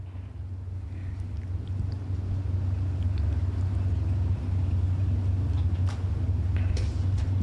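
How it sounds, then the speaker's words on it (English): A steady low drag racing car engine rumble drones throughout at a bracket racing event, with faint wind and distant background noise. "So we have engine noise, which means we have round 2 coming."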